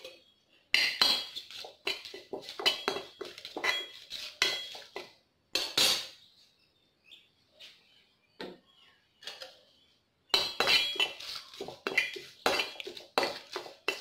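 Curry leaves and bay leaves dry-roasting in a pan for homemade curry masala powder, with bursts of metal spoon scraping and clinking against the pan, a quiet pause, then more stirring, close and loud with no talking.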